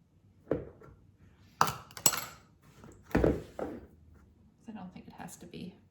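A spatula spreads cherry bar batter across a pan in a few separate scraping strokes and clinks against the pan, close up, with talking in between.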